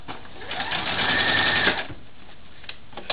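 Sewing machine stitching a zigzag at a widened stitch setting, a steady close mechanical whir lasting about a second and a half before stopping, followed by a few faint clicks.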